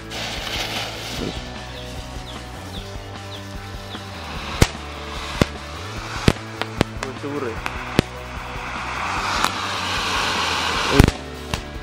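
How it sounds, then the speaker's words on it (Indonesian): Loud mega jumbo firework bursts go off one after another, sharp bangs and crackles ringing out over a steady background with voices murmuring throughout. "kembang api mega jumbo paling besar ya, kita nyalakan"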